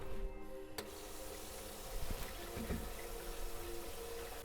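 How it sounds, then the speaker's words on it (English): Water sprays and hisses steadily from a leaking kitchen sink sprayer hose, a continuous close rush of running water with a faint clunk near the start. "water's coming out the sprayer up here"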